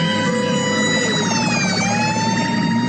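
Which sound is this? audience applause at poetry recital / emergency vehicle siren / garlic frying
emergency vehicle siren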